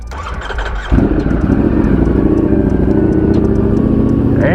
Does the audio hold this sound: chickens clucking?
no